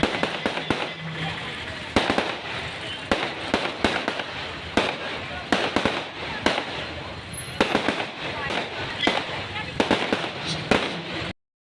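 Fireworks at a temple festival, a long run of sharp firecracker bursts and pops going off in quick irregular succession, some near and loud, over a constant crowd-and-outdoor roar.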